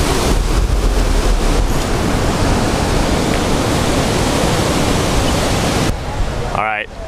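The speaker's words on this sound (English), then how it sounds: "the wind is picking up hardcore right now" Gusty wind hammers the microphone in a loud, continuous rush in a Hawaiian valley on the Big Island, with a rushing water wash underneath, then eases near the end as a voice briefly sounds.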